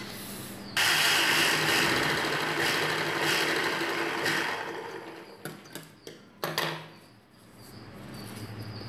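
A sewing machine stitches around a blouse patch, joining buckram and lining fabric, running in a loud steady whir for several seconds, then stopping and restarting in short bursts near the end.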